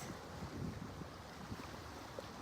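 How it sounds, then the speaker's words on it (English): Ocean waves breaking on the coast of Mexico, heard as a soft, steady wash of surf mixed with wind buffeting the microphone, faint and continuous throughout. "You can see the seagulls and the waves."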